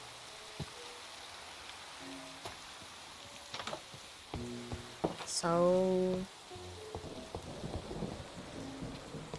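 Rain patters steadily in a Minecraft world while thunder rolls, a soft constant hiss with a louder rumbling swell midway, alongside scattered game tones and one brief spoken word.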